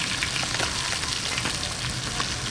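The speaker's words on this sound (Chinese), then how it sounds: "煎到两面金黄就可以" Crucian carp fries in a pan of hot oil with a dense, even sizzle that stays loud and steady, with occasional faint stirring and no speech.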